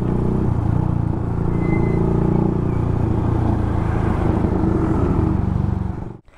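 A Suzuki Gixxer 155fi motorcycle engine runs close by with a loud, steady, throaty rumble for about six seconds, then cuts off abruptly.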